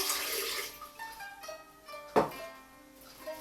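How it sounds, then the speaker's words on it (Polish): Water, less than a full glass, is poured into a blender for a melon and mint green smoothie, a short trickling pour with a ringing, rising tone that stops after a brief splash, close and fairly quiet. "Wlewamy niepełną szklankę wody"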